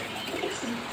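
A red checker racer pigeon coos softly in a short, low murmuring call, close by with no talk over it.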